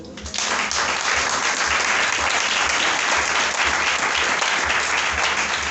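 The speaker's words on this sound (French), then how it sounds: "Est-ce que tu peux donner une acclamation au Seigneur?" A church congregation applauds and acclaims the Lord during a French-language sermon, with steady, dense clapping that holds from start to finish and a low rhythmic thump pulsing beneath it.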